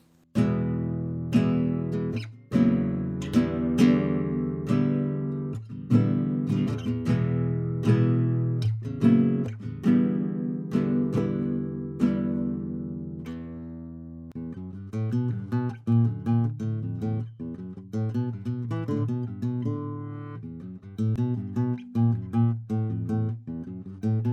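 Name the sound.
classical guitar playing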